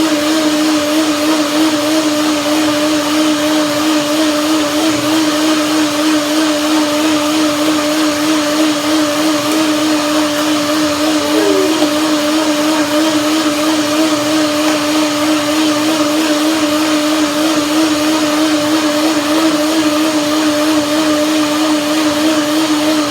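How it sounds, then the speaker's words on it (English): A blender whirring through a batch of curry tahini mayonnaise gives a loud, steady motor drone with a constant hum, continuous for over twenty seconds without talk. "Second blending, and you have it very creamy"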